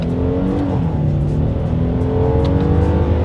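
A 2021 Hyundai Palisade SUV accelerates hard in first gear using paddle shifters, its engine note rising loud and close inside the cabin with a steady climbing drone.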